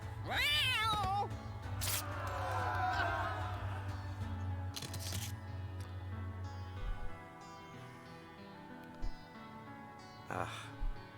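Cat meows and yowls from a dungeon-crawling card game, several rising cries over a steady low hum and game music, followed by quieter clicks and shuffling sounds.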